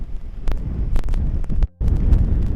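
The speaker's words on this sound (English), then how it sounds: "it's a little windy up here" Steady gusting wind roars and buffets a microphone on an RV roof, with brief sharp knocks, a sudden drop to near silence, then the rush returns.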